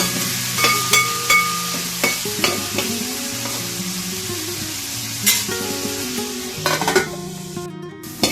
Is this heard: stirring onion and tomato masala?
yes